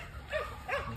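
A big red male pit bull gives two short barks about half a second apart, moderately close but fairly quiet, with nothing else sounding between them.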